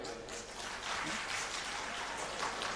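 A crowd claps in dense, continuous applause, fairly distant and steady for a few seconds.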